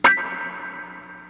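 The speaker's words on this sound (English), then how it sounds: "Okay, finally we have reverb." An electric guitar note struck through a reverb pedal, with a sharp attack followed by a long, cave-like wash of echo that slowly decays over about a second.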